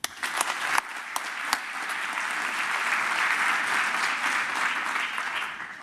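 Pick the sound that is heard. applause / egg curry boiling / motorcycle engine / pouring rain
applause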